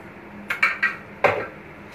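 A spoon scrapes and clinks against a pot of rice, with a few quick metallic knocks and scrapes close by over a quiet kitchen background.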